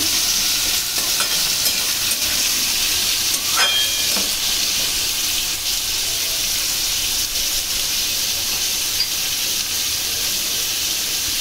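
Potatoes and chopped onions frying in a pan are stirred, giving a steady loud sizzle with a few scraping strokes of the spoon near the start.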